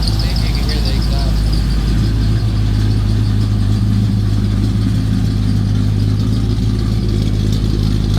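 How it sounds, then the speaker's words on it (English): A square body Chevy V8 with a little cam runs at idle, a steady low exhaust rumble with a slight lope, recorded close by on a phone with broadband noise over it. "See if you can hear the exhaust."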